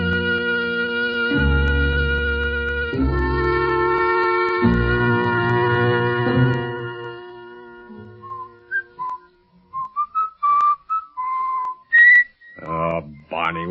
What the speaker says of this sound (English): would you mind stopping that eternal whistling of yours?